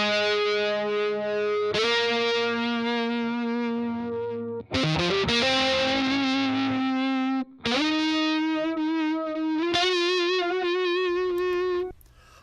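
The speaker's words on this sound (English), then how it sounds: "Let's listen to this guitar track by itself so we can hear what we've got." A distorted electric guitar track in Logic Pro X plays alone: sustained, heavily overdriven chords and bends in several phrases separated by brief gaps, loud and saturated.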